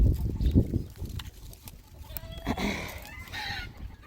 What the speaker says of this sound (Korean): 닭들이 아주 또 지저지 알랐다고 또 짖고 난리